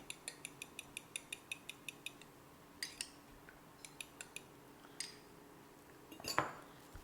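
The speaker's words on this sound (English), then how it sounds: "I have taken the eggs, 2 eggs I have taken, beat it nicely" A fork or whisk beats two eggs in a bowl for fried rice, a quick run of sharp regular clicks, then a pause, then sparser taps and a final clatter, close and fairly quiet.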